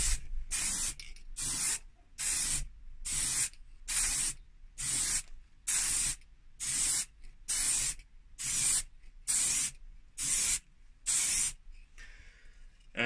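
Paint sprays onto a car's centre fascia in a run of about a dozen short, even bursts, each a sharp close hiss separated by brief pauses, with no talking.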